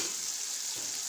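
Ginger-garlic paste hitting hot oil for a vegetable biryani, a brief, fairly faint steady hiss of sizzling with no voices.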